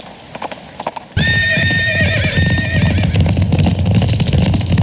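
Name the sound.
horse hooves clip-clopping and neighing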